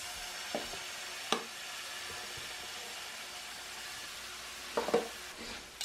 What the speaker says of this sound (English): I'm supposed to fry in that same pan where the chickpeas were.